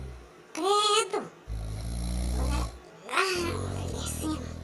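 Someone mimics loud snoring with the voice, giving two long rasping inhale-exhale cycles with deep, rumbling vibrating breaths, close and strong.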